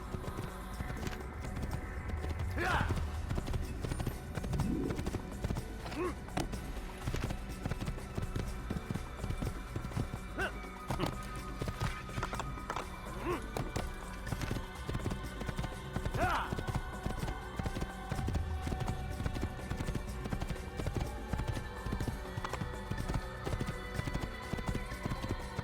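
Horse hooves clip-clop steadily in a video game while the horse moves, a rhythmic clatter running throughout, with occasional whinnies, game ambience and a voice talking over it.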